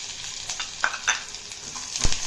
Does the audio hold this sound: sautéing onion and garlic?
yes